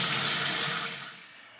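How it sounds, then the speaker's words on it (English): Cold water running from a kitchen tap over a brined trout during rinsing, a loud steady splashing rush that fades toward the end, with no voices. "we're gonna take the fish out and rinse it in cold water."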